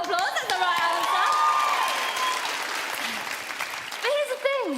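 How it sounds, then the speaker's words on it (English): An audience claps during a behind-the-scenes musical-making session, with cheering and excited voices rising over the steady applause. "give yourselves a round of applause"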